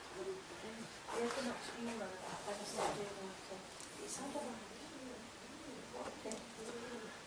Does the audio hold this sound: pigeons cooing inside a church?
yes